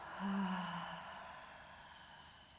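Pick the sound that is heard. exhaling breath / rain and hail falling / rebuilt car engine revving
exhaling breath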